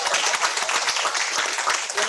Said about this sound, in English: let's give CSP Skippings another round of applause